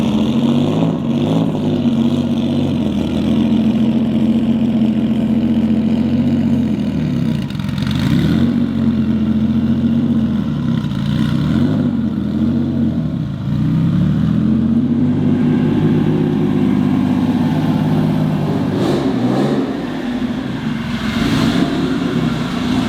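A 2007 Subaru WRX STI idles with a rough, burbling engine note and is blipped through several revs that rise and fall over about twenty seconds, close up and loud, with no voices.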